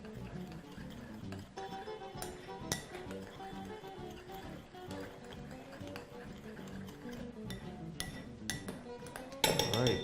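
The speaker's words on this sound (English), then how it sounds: "all we're going to do is give that a nice mix" Spiced chicken and potato fritter ingredients with black pepper and salt are stirred in a bowl, giving irregular scraping and clinking of a utensil against the dish, close and moderately quiet, with a voice faintly present at times.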